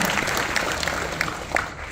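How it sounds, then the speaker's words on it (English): Applause from a Comic Con panel audience at San Diego Comic Con 2022, a dense, steady patter of many hands clapping with a few sharper claps standing out. "Can we get another round of applause for all the costumes that are coming out for our characters right now?"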